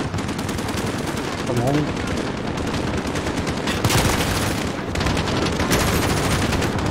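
Rapid gunfire rattles in bursts through Call of Duty Modern Warfare on PC, dense and loud throughout, with a voice speaking briefly over the shooting.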